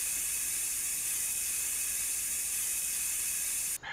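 Bug spray sprays in the Estate Agent video game, a single loud, steady aerosol hiss held for almost four seconds before cutting off abruptly, heard alone.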